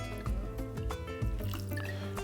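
Half a teaspoon of balsamic vinegar is poured into a spoon in a home kitchen, giving a quiet run of small drips and liquid trickles, close up and without talk.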